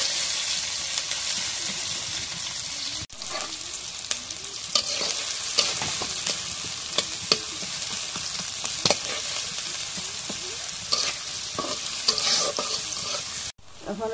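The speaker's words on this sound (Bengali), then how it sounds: "এখন কড়ার মধ্যে পেঁয়াজ দিই।" Onions fry in oil in a wok with a bright, continuous sizzle, dotted with small clicks and spatters from stirring. Two brief dips interrupt it, and no one speaks.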